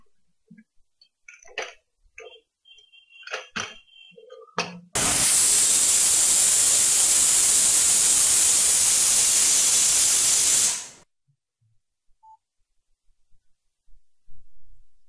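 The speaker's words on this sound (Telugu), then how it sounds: "ఇప్పుడు కుక్కర్ మూత పెట్టుకుని 3 విజిల్స్ వచ్చిన తర్వాత స్టవ్ ఆఫ్ చేసుకోవాలి" A pressure cooker cooking mutton masala curry lets out one loud, steady hissing whistle lasting about six seconds, cut off abruptly, with faint clinks and kitchen handling before and after.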